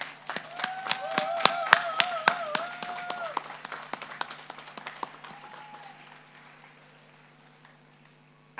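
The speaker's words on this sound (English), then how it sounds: "I believe all our graduates and awardees do deserve an additional round of applause." Audience at a college graduation ceremony clapping in a burst of applause, with sharp claps dense at first, then thinning and fading out over several seconds while a faint tone lingers.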